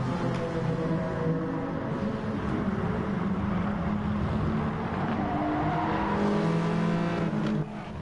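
A touring car's engine heard from on board at Autopolis in a racing video game, a loud, steady drone that holds at high revs for the whole stretch, with a faint hint of tire noise.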